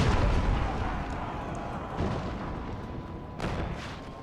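Cannons boom in the Total War: Empire battle game: three heavy, rumbling blasts spaced a second or two apart, with a long decaying rumble between them.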